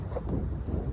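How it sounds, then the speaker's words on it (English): Wind rushes steadily across the microphone beside a fishing pond, a brief, low, continuous rumble with no other clear sounds. "We're fishing in windy weather"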